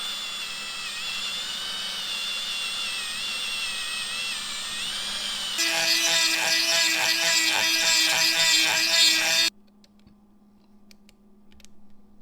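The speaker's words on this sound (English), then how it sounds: "run a tap through here to size this up and then smooth it out with a Dremel" A Dremel rotary tool whines at a high, steady pitch while smoothing bolt holes on a Farris ZTR IS 3000 mower engine, then shifts to a harsher buzzing grind before cutting off abruptly into quiet.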